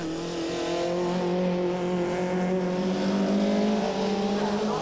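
Procar touring race cars, among them an Opel Astra, lap the Zolder circuit in the 1994 Belgian championship finale, a continuous loud drone of several engines holding steady and rising slightly in pitch, with no voices over it.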